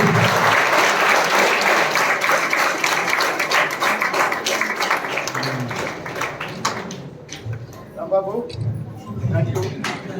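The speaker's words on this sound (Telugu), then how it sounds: "క్లాప్స్ కొట్టండి అందరూ గట్టిగా ఒకసారి" An audience at the opening of a free coaching centre claps loudly and densely at first, then thins out and fades. People talk over the end of it.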